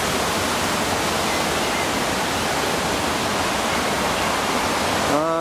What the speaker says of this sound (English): Nice flow of water on the weir.